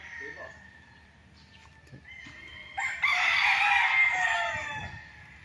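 Roosters crow loudly nearby, one long crow rising mid-clip, with softer clucking and other fowl calls around it.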